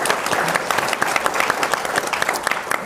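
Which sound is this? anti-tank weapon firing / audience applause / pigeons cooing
audience applause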